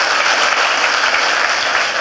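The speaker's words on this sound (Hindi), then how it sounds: "जोरदार तालियां हो जाए सुरेखा भार्गवों के लिए" Loud, sustained applause from a large audience at a business meeting, a thick continuous roar of clapping at full strength for the whole stretch.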